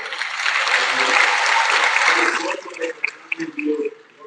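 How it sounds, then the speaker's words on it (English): A large audience applauds after a speech at a graduation ceremony, a thick wash of clapping that fades after a couple of seconds into scattered claps and murmuring voices. "A big round of applause for Dr. Scott's great speech there."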